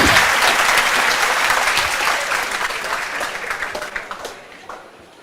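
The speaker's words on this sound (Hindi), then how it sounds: "सर के लिए एक बार जोरदार तालियां।" A class audience applauds its teacher with loud, dense clapping that holds steady, then thins into scattered claps and fades out near the end.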